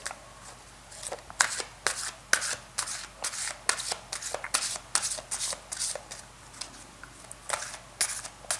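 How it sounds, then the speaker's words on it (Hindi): Angel cards are shuffled for a tarot reading, giving a steady run of crisp riffling slaps and flicks in quick bursts, close and fairly loud with no talking. "हम करते हैं एंजल कार्ड से शफल और देखते हैं आपकी रीडिंग क्या रहेगी एंजल कार्ड्स के हिसाब से"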